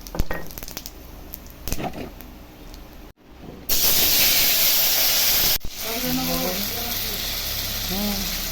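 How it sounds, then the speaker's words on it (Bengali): Dried red chilli and cumin seeds dropped into hot leftover rohu fish oil burst into a loud, steady sizzling hiss that carries on for several seconds, with a voice faintly heard underneath. "শুকনো লঙ্কা ফোড়ন দিলাম, জিরা ফোড়ন দিলাম"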